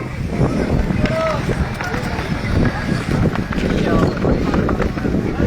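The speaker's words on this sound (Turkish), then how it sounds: "Rüzgar geldi bak." Steady wind rushes and buffets the microphone throughout, with voices talking faintly underneath and a few brief tonal whistles.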